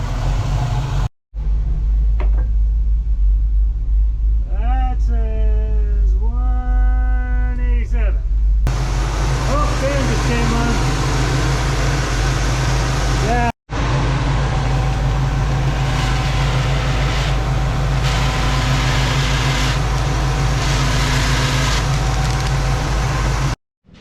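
A 1967 Camaro engine runs outdoors with a loud, steady, close rumble, cutting out briefly twice, while a voice speaks over it for a few seconds.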